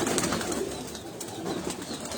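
A Sialkoti pigeon with pearl-like eyes coos in soft, low repeated calls close by, over a steady wash of outdoor background noise, with no speech.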